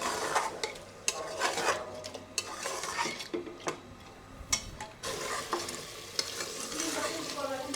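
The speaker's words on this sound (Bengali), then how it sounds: "ভাতটা হয়ে গেছে, এখন মাংসটা কষানো হবে।" Meat sizzling and being stirred in a pot, with steady frying hiss and repeated scraping and clinking of a utensil against the metal, close and continuous.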